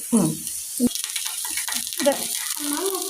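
Green chillies and curry leaves fry in a pan for a potato mezhukkupuratti, a continuous close sizzle running under ongoing speech.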